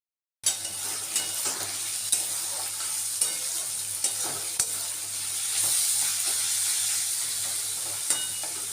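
Onions frying in a pan for prawn curry, a continuous hissing sizzle with regular soft scrapes and taps of a stirring spatula, close and steady.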